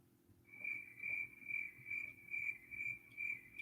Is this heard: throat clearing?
no